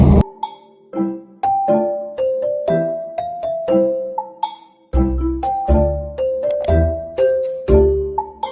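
A bright bell-like notification chime rings out alone as a short melodic run of clear tones, then repeats the same sequence a second time.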